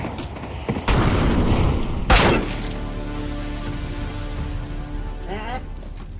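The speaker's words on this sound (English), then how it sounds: "Throwing smoke. Throwing fire." A smoke grenade is thrown in CSGO, with game bursts and a sharp boom followed by a long, steady hiss of the smoke spreading.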